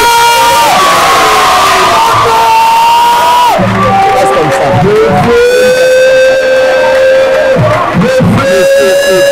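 A church congregation at a worship service cheers and shouts loudly together, a roaring crowd with rising and falling cries and a strong voice calling over it; clapping and stamping are not clearly distinct.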